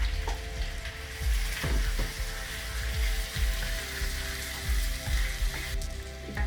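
Red onions and green chilies fry in a pan for mutton biryani, giving a steady close sizzle with occasional stirring scrapes and taps, no voices.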